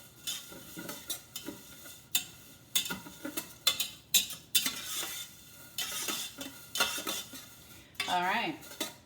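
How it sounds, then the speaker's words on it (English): A spoon scrapes and clinks around a pot of rice pilaf in irregular strokes, with a soft sizzle underneath. "Just keep stirring."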